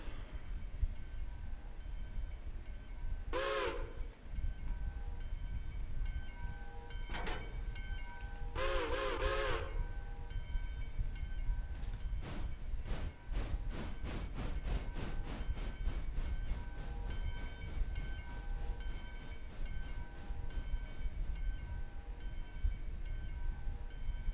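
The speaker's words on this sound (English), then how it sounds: "We love the steam choo-choos. They make pretty noises." Steam locomotive in the railway game Railroader, a steady low rumble with a few short whistle blasts early on, then a rapid run of rhythmic chuffs or clacks building up toward the middle, with no voices.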